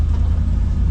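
Wrecker truck engine pulling through mud off-road during a recovery, a steady loud low rumble with slight throttle swells throughout, no voices.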